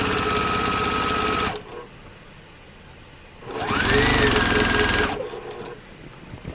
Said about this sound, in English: I do a complete edge stitching down the edge of my quilt